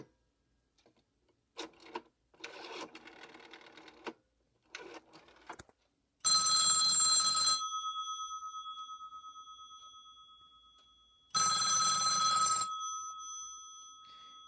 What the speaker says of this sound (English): And you can hear it ringing like this because it does sound a little bit different with the cover on.